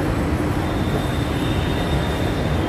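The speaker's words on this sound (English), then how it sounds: "We have come to the metro station." A Mumbai Metro train rumbles at the station, a loud, steady, dense roar of wheels and carriage noise that holds constant throughout, with a faint high whine above and no voices.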